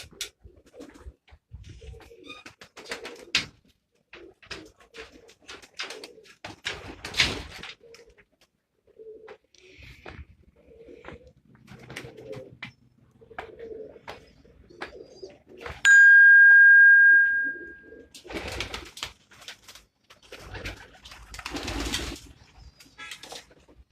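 Pigeons on a rooftop coo repeatedly and flap their wings in short bursts, fairly close, with a sustained tone and a loud steady noise partway through, and no speech.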